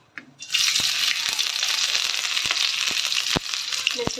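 Chopped green chilli and cumin seeds sizzle in hot oil, a loud steady frying hiss that starts after a brief moment, with occasional clinks and stirring taps from a utensil, close and without talking.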